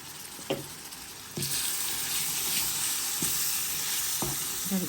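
Spices with salt, turmeric, chili powder and cumin sizzle and fry in a pan for a large katla fish head, a steady loud hiss with a few scraping stirs, no voices.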